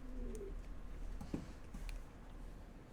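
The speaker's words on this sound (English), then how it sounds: "I wonder if anyone can hear that pigeon" A pigeon coos softly in the background, a few low, faint murmuring calls heard alone against quiet room noise.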